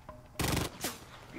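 Gunfire in the zombie battle royale game Cuisine Royale: one short, loud rattling burst after a quiet moment, followed by a fainter second crack.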